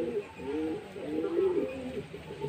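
Pigeons coo softly in a few low, rolling, repeated calls, fairly quiet, with no talking.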